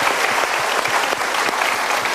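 Brief burst of dense audience applause at a motivational talk, many hands clapping steadily and loudly throughout.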